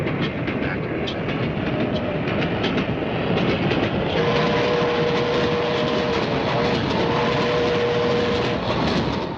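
A train running on rails, a steady loud rumble with rhythmic clatter throughout, joined midway by a sustained whining tone.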